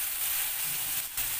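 Potatoes and chopped eggplant fry in a pan with a soft, continuous sizzle, quiet and close, with no talking.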